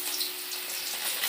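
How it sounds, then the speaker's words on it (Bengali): Potato and eggplant pieces frying in hot oil in a pan, a steady dense sizzle that fills the moment evenly with no voices. "আলুটা আগে একটু ভাজা ভাজা করে নিই"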